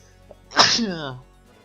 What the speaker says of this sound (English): I think I'm gonna fucking sneeze